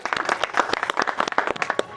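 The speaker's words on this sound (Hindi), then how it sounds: "ताली बजाओ इनके लिए।" A crowd claps together in a fast, uneven patter of many close hands, loud and continuous through the short stretch with no talk over it.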